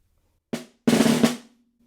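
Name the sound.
snare drum etude beat 4, buzzed and a 1, crescendo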